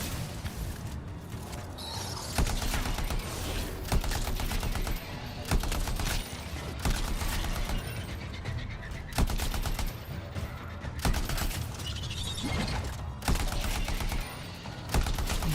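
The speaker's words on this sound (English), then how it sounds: "the shooting actually feels kind of good" Sustained automatic gunfire from the shooter video game Anthem, dense bursts of loud rapid shots with explosive cracks layered over a continuous game soundscape, no talk.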